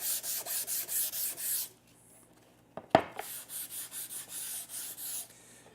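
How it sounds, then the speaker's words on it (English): Someone hand-sands the edge of a wooden tabletop with 220 grit sandpaper, easing the edge. Rapid rhythmic back-and-forth strokes sound close, then stop for about a second, with a light knock before the strokes resume. "I'll just lightly touch this edge with some sandpaper and ease that edge just a little bit."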